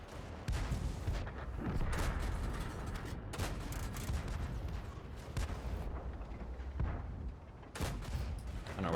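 Skoda T 25 tank firing in a video game, several sharp cannon shots at irregular intervals with mechanical creaks and rumbling between them, fairly quiet overall.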